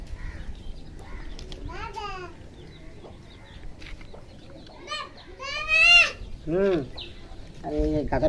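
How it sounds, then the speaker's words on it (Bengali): Young goat kids bleat in several wavering calls, the loudest near the end, between stretches where a person talks close by on a farm. "এই দুটো ছাগলকেই দিতে হবে আমার"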